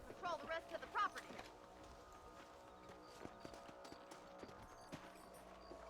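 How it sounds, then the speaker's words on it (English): Horse hooves in the Red Dead Redemption video game clop at a steady walking pace, soft and fairly close, with a man's speech briefly at the start and light game ambience underneath. "Ah, está mi caballo."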